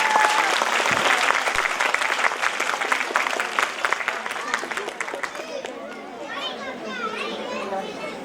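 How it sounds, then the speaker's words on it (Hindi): Loud, dense applause from students and teachers at a school annual function, with children's voices and chatter mixed in, before the clapping dies away and children keep talking over the quieter hall. "एक बार सभी के लिए जोरदार तालियां हो जाए"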